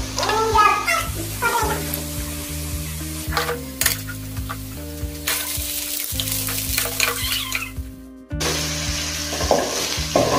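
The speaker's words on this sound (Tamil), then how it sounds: "சரி, இனி வெண்டைக்காய் போட்டுருவாமா?" Okra frying in hot oil in a home kitchen, a steady close sizzle broken by repeated scraping stirs, with a voice briefly audible and a pause near the end before the frying resumes.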